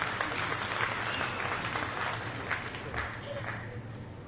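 Audience applause at a South African political party's elective conference, a steady clapping wash from a large crowd that holds at an even level throughout with a faint murmur of voices underneath.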